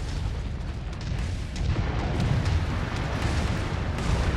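SRM-6 short-range missile salvo detonating in MechWarrior 5: Mercenaries, a dense, continuous rumble of booming explosions that swells louder midway and rolls on without pause, with no voices over it.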